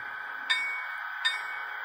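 Bell of a dead rail battery-powered model train: two soft, distinct dings about three-quarters of a second apart over a steady electronic hum, with no voices.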